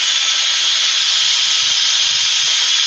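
A turned wood piece spinning on a woodturning lathe is sanded with 240 grit sandpaper, giving a loud, continuous close-up hiss of abrasive rubbing with no speech.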